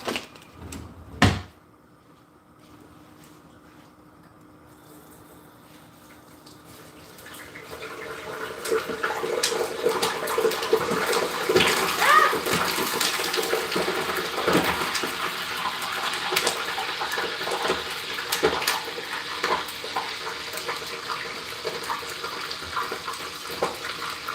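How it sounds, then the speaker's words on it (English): Water gushing and splashing into a kitchen sink holding cooking oil, a steady running wash that starts after a brief knock and continues loud and close, with no talking. "some water splashed into the oil I had in the sink"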